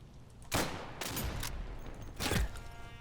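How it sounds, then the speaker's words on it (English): German troops fire in the World War II shooter Day of Infamy, with a few loud, sharp gunshot cracks spaced irregularly over a rumbling battlefield background, and no talking. "I'm seeing green tracer, which I think is the Germans, firing into the building"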